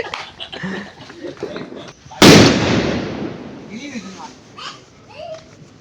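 A single sharp firecracker burst cracks loudly, then fades into a hissing tail, with children's voices chattering before and after.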